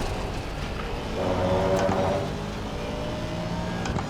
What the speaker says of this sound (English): There's the engine, you can hear it in the background now.